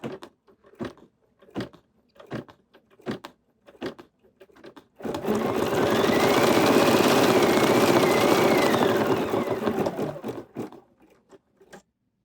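A Bernina embroidery machine stitches tiny lettering in a loud, steady mechanical whir lasting about five seconds, framed before and after by soft clicks and taps close by.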